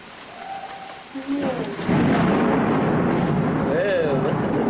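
Rain pours steadily into the courtyard of the Christ Church compound in Jerusalem during a thunderstorm, with a dense hiss that thickens partway through. Voices speak over it.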